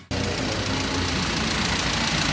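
A BMW CSL at an Oulton Park trackday runs on a dropped cylinder, producing a loud, close, continuous rough engine drone that starts abruptly and holds steady throughout.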